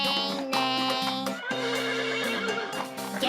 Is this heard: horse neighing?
yes